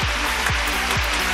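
Canned applause effect played over a radio broadcast, a short dense burst of clapping with a low swooping tone repeating underneath, loud and steady throughout.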